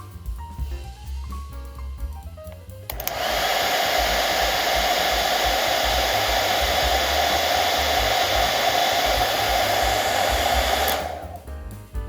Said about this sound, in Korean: 제가 사용하는 드라이기의 소음과 한번 비교해서 들려드리도록 하겠습니다